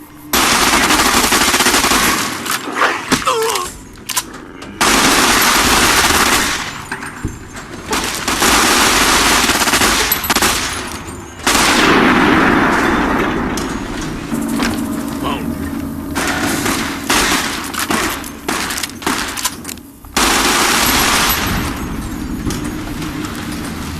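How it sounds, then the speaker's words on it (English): A video game submachine gun fires, switching between short bursts and long automatic strings. The shots are loud, sharp and rapid, with brief gaps between volleys and a clipped, close sound. "While this is a submachine gun, as you can see from the gauge, only has two modes, burst and automatic."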